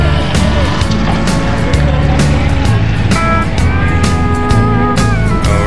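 Vehicles drive down the ramp off the ferry Virgen de Peñafrancia XII of Starhorse Shipping Lines, a loud, steady engine drone with repeated clanks and thumps as wheels cross the ramp, crowd voices faint underneath.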